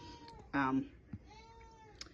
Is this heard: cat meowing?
yes